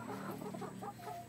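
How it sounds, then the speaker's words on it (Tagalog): A few chickens cluck softly nearby, their short, throaty calls overlapping in a quiet, brief snippet. "Yan pala ang aking mga manok"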